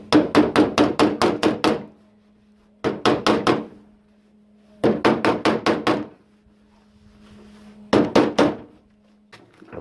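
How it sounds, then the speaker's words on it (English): A metalworking hammer taps a car door panel on an XA wagon in a home garage, four bursts of rapid sharp metallic strikes, each a quick string of about five to seven blows, loud and close, with quiet pauses between. "Let me get my metalworking hammer, give it a bit of a tap tap."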